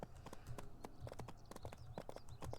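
Galloping horse hooves in the game Barbie Horse Adventures: Mystery Ride, a quick repeated clip-clop rhythm, faint and steady.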